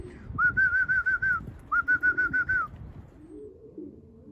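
Young racing pigeons outside their loft give two bursts of soft, rhythmic cooing phrases, each a run of about six pulsing notes, close and fairly quiet, followed by low murmuring.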